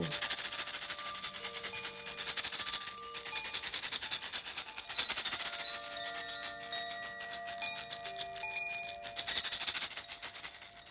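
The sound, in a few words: rattle shaken in a meditation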